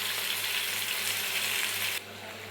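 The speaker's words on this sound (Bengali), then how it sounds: "এবার দিয়ে দেব পরিমাণ মতো জল" Water poured into a pan of frying prawn and pointed gourd curry, a steady hissing sizzle that runs loud and even before dropping to a quieter simmer near the end.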